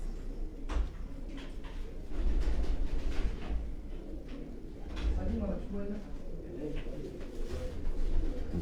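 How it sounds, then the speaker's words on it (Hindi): Pigeons of an antique-coloured breed coo on a rooftop, a steady low murmur running through the whole stretch while people talk nearby. "अच्छा कबूतर है।"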